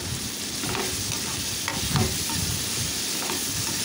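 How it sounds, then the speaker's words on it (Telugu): Ridge gourd pieces fry and get stirred in a pan, giving a steady close sizzle with scattered scraping and clinking from the spoon throughout. "ఈ పొట్లకాయ ముక్కలండి 1-2 నిమిషాల పాటు ఈ విధంగా ఫ్రై అయ్యేటట్టుగా"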